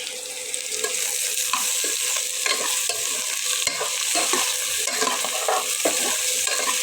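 Potatoes fry in a pan while being stirred, a steady bright sizzle broken by repeated scraping and clinking stirs, close and continuous with no talk.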